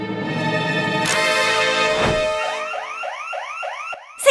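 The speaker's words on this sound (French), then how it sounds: "Il faut sonner l'alarme." A cartoon alarm rings out loud inside a school classroom, a continuous blaring tone that shifts into a rapid repeating whooping siren pattern, with no voices.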